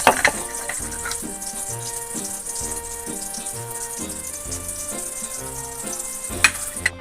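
Eggs and hotdogs frying in oil make a steady, dense sizzle that carries on without a break, with a few brighter crackles and pops near the start and close to the end.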